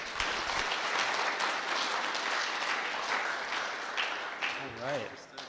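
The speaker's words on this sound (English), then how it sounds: "So let's give a round of applause to Branzdon" Audience applause at the Objective by the Sea security conference as a speaker takes the stage. Steady, moderately loud clapping runs throughout, with a brief voice emerging near the end.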